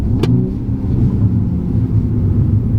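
A 2020 BMW M235i Gran Coupe, 2-litre turbocharged four-cylinder petrol with 8-speed automatic, revs and pulls hard, a steady low rumble building close by with no voices.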